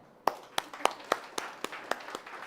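Rhythmic clapping from a church congregation during a sermon: about nine sharp, evenly spaced claps over a couple of seconds, close and fairly loud, with no talking.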